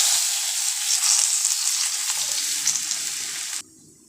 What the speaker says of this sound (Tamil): கடுகு வெடித்து அடங்கணும்